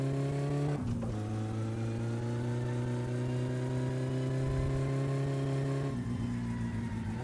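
A car with a poorly running engine labours through a city test drive, its continuous close engine drone climbing steadily in pitch, with brief gear changes near the start and end and no voices.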